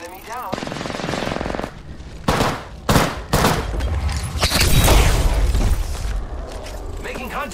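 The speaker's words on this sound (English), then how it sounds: "I am taking fire, friends." Gunfire in the Apex Legends video game: rapid automatic bursts and heavy shots crackle loudly, broken by short pauses, with character voice lines mixed in.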